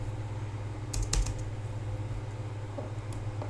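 A computer keyboard gives a short burst of quick key taps followed by a few isolated presses over a steady low fan hum.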